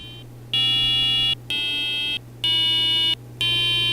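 A homemade one-octave electronic keyboard plays four sustained, buzzy square-wave tones in sequence, each held for nearly a second with brief gaps, loud and close, over a low constant hum.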